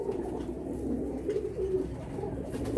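Several open-eyed pigeons of medium size coo in a loft, low throaty rolling calls repeating close by over a steady background hum, with no talk.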